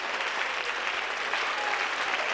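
A church congregation at a prayer gathering breaks into applause and cheering, a thick continuous roar of clapping hands blended with crowd noise, loud and even throughout.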